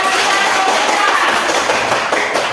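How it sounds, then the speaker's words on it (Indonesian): A classroom of students claps hands together in a brisk, dense burst of close, loud clapping that carries on steadily, with a voice mixed in. "kita tepuk tangan kepada"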